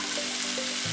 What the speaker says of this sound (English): We're going to saute all that together.